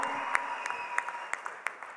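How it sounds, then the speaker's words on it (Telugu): Scattered audience clapping at a music event's speech, with individual sharp claps standing out over a steady bright crowd hum. "కాటన్ క్లాప్స్ దీనికి."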